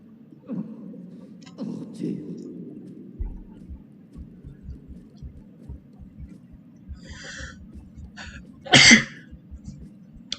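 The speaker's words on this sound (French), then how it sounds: "Désolé si j'éternue." A single sharp sneeze bursts out near the end, loud and close, after quiet breathing and low rhythmic thumps in a French-language adventure game.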